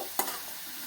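Bitter gourd frying in a pan, a short sharp hiss of oil as something is tossed in, then a soft continuous sizzle for under a second.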